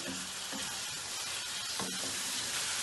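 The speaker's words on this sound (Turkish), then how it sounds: "Küp küpü doğranmış olduğum yarım kilo ciğerimi ekledim. Şu anda kavuruyorum." Steady, close sizzling of half a kilo of diced liver frying in hot oil, with a couple of brief clinks or scrapes from stirring.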